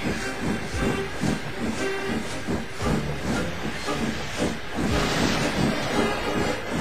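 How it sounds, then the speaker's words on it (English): A cartoon steam engine puffs hard while a steady loud hiss of steam runs beneath rhythmic chuffs, with no voices. "Thomas puffed and huffed and puffed as hard as he could."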